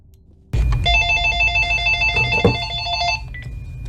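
An electronic phone ringtone from the video game F.E.A.R. trills steadily for about three seconds in bright repeating tones, with a brief click midway and a softer beep near the end.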